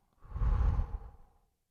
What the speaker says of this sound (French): Et je relâche tout doucement en soufflant.